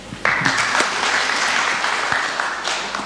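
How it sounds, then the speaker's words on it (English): Applause from a conference audience in a hall, starting abruptly and holding as a dense, steady wash of many hands for about three seconds before easing slightly. "can you clap for me?"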